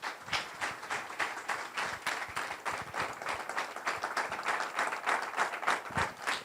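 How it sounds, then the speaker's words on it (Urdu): A church congregation gives loud applause to welcome a pastor, dense and continuous clapping from many hands with an even, sustained rhythm throughout, close and full with no talking. "خدا ان کے خادم کو زوردار تالیوں سے ویلکم کریں گے"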